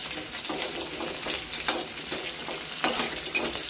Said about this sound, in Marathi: तर मिरचीला पण असं छान परतून घ्यायचं आहे फोडणीमध्ये।